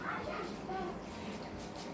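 A dog receiving treats indoors gives faint whimpers and soft yips, close by and brief, under a steady room noise with people talking quietly nearby.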